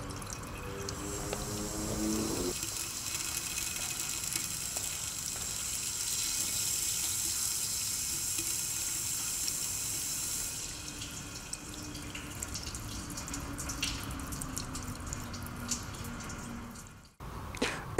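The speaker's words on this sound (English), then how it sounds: "we can see how the valve opens and we generate the first steady flow" Water flows through a needle valve on a METRUS safety and control valve test bench, a steady rushing hiss that runs continuously for the whole span, with a brief drop and a click near the end.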